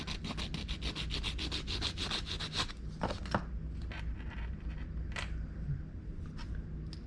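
A plastic part from an AMT 1934 Ford pickup model kit is sanded by hand in quick, rhythmic rasping strokes for a few seconds, followed by scattered lighter scrapes and handling noises, close and fairly quiet.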